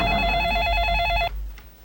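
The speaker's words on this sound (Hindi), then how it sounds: "1 मिनट लालू, तुम्हारे प्रिंसिपल का फोन है।" A telephone rings loudly indoors with a bright electronic ring for just over a second, then cuts off abruptly as it is answered.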